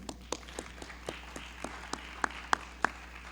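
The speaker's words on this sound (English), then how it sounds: "So round of applause to them." Sparse, rhythmic clapping from a small audience at a high school family night, individual claps spaced evenly and growing sharper toward the end, fairly faint overall.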